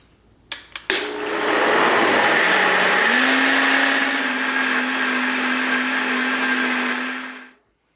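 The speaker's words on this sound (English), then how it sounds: "let's get that on our blender body" After a few clicks, a blender making sauce whirs up to speed and runs loudly with a steady high whine for several seconds before cutting off abruptly.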